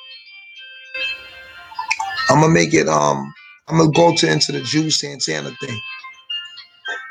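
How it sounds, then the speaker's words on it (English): A phone's ringtone chimes faintly in the background as a steady repeating tone pattern, heard mostly under a man's loud, continuous talking. "Excuse the phone. Somebody's calling."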